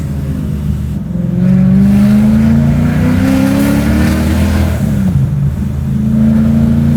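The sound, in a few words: supercharged V8 BMW E30 accelerating on the highway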